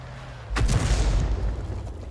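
A tank gun fires a single shot in a tank video game, a sudden loud boom followed by a rumbling decay over a low engine drone.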